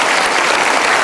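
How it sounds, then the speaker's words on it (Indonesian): Loud, dense applause from a studio audience at an Indonesian television talk show, steady and close throughout the short burst. "kenapa tepuk tangan riuh rendah?"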